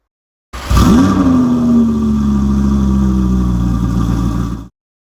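A 2022 Audi R8 Performance pulls up at a dealership, its engine loud and close, starting with a rising rev that settles into a steady, slowly falling drone for about four seconds before cutting off abruptly.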